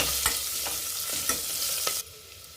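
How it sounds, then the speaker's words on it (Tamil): Onions with turmeric and crushed garlic sauté in a pan, giving a bright steady hiss with a few stirring taps. The sizzle drops away abruptly near the end. "மஞ்சத்தூள், வெங்காயம் நல்லா வதங்கட்டுங்க. இதோட பூண்டு சேர்த்துக்கிறேங்க."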